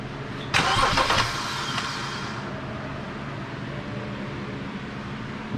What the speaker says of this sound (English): First we're going to go ahead and crank it, make sure everything is good.